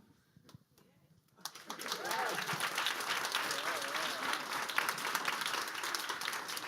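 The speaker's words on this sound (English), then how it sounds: "Now, give them a round of applause." Audience at a tech demo day at Google HQ breaks into applause after a quiet moment, steady dense clapping that holds at a moderate level, with some faint voices beneath.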